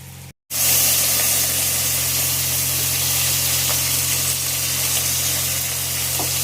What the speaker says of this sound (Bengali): রান্না হচ্ছে এখন টমেটোর চাটনি